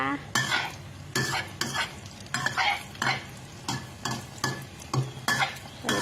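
Cha-om egg omelette frying crisp over high heat, with loud, close sizzling and spatula scrapes that come in regular bursts about every half second, with no voices.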